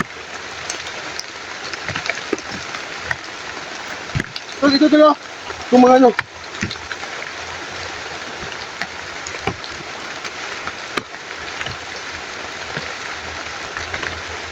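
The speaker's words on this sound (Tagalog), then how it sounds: "Yung lakas ng ulan, tol." Heavy rain hisses steadily outdoors, a dense wash of noise that runs the whole way through, while someone speaks briefly in short bursts partway in.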